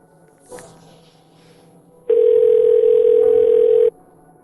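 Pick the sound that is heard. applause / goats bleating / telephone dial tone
telephone dial tone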